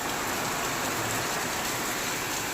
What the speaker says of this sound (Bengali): ঝমঝমিয়ে বৃষ্টি নেমেছে গাইস